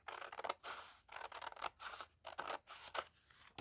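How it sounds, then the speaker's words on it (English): Scissors snip steadily through paper, trimming a white edge for an art journal, with repeated close crisp cuts and rustles and no talking. "So I'm just going to trim off this white edge"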